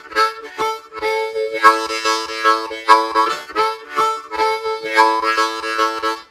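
Harmonica played in a one-chord boogie pattern, using 2-hole or 3-hole draw notes with the adjacent hole bled in, giving rhythmic chordal pulses in steady repeated bursts, close and alone with no talking.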